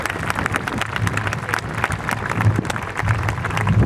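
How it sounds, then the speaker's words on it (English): An audience at a 2016 high school graduation ceremony breaks into applause, a moderate wash of clapping with a voice speaking over it. "Yeah, I'll clap for that."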